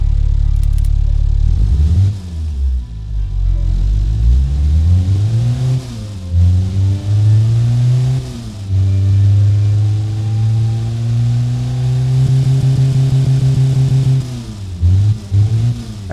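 The Ford Transit 2.0L engine in the Automation game fires up and idles, then revs repeatedly through rising and falling sweeps before settling into a long, steady high-rev hold, and drops back at the end.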